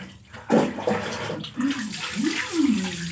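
Water splashes and runs steadily while a dog named Sky is bathed, with sloshing surges and a continuous rushing stream close by.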